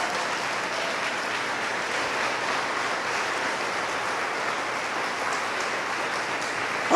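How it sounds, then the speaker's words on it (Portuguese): A church congregation applauds after a testimony, a continuous, even roar of many hands that holds steady and fairly close for the full seven seconds with no speech over it. "Aplauda o Senhor Jesus"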